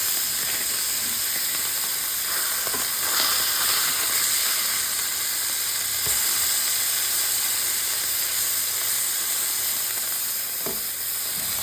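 No-carb, rice-free paella sizzles and hisses steadily in a hot pan, with a few brief scraping knocks as the mixture is turned over; close and continuous throughout.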